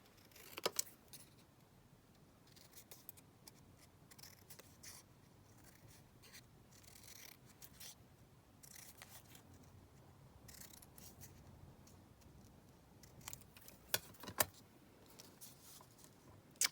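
Scissors cutting down a stamped paper label, with faint snips and paper rustles scattered through a quiet stretch and a few sharper clicks and taps near the start and end.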